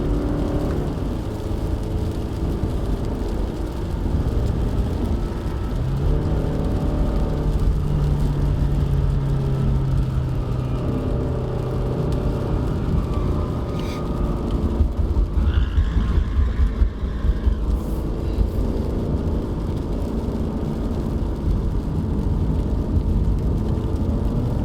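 A 2020 Subaru XV GT Edition is driven in second gear up a wet Genting mountain road. Its engine gives a steady, moderately loud in-cabin hum and whir, with road and tyre rumble and a faint rise in pitch partway through.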